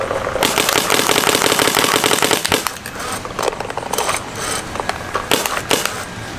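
A paintball marker fed by a CRBN DRV loader fires in a fast, rattling string of close, loud shots for a couple of seconds, then breaks into shorter bursts of rapid pops.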